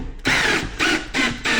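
A power drill drives a drywall screw to make a pilot path for a lag bolt during a long-arm articulating TV mount install, with loud, close whirring in four bursts separated by short pauses.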